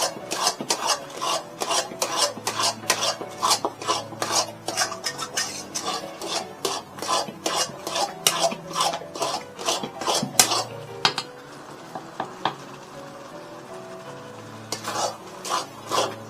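Apple halwa made with cornflour, sugar and ghee is stirred continuously in a metal pan, giving rapid, rhythmic scraping strokes of a spoon against the pan. The stirring is close and fairly loud, pauses briefly near the end, and there is no speech.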